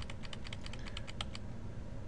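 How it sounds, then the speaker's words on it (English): Rapid clicking of arrow keys on a computer keyboard in a quiet room, about a dozen light taps in quick uneven succession, then stopping. "I'm hitting my arrow keys to slide it over."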